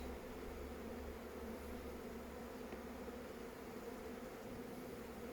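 Honeybees buzz around a hive at a bee school in Scotland, a faint, continuous drone of many wings with no break, steady from start to finish.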